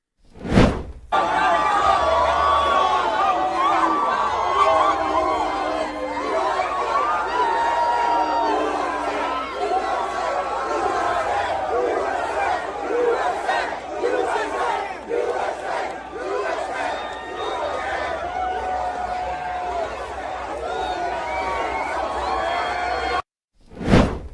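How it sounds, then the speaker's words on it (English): A large crowd of Trump supporters cheers and shouts around the president in a dense, sustained roar of many voices with scattered whoops, close and loud, after a brief cut at the start and before a short gap near the end. "just look at this crowd of Trump supporters"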